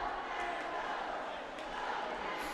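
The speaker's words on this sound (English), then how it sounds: "Go Cats, go chant going." A hockey arena crowd chants "Go Cats, go" at a Cataracts versus Red Wings game. The chant is a dense, steady roar of many voices that fills the space, heard from a distance throughout.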